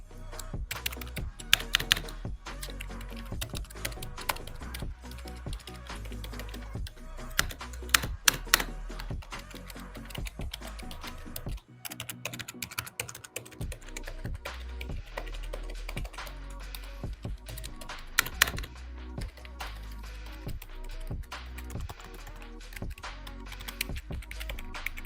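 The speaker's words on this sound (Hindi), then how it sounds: "गाइज कीबोर्ड का आवाज भी सुन लो आप गाइज" Rapid typing on a Corsair K55 RGB PRO keyboard gives a dense, continuous stream of close, crisp key clacks with a brief pause around the middle and no speech.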